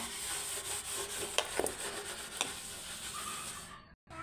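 Steel utensil scrubbed with homemade lemon dish wash liquid: steady close scraping and rubbing with soft wet swishes and a few sharper clinks, fairly quiet, ending abruptly.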